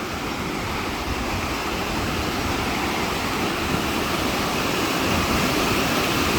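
A river near Chinook Pass rushes steadily in a loud, dense, unbroken roar of flowing water, with no voices.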